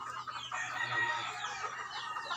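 Chickens cluck and chatter nearby in a steady, overlapping stream, with a faint low hum underneath and no talking.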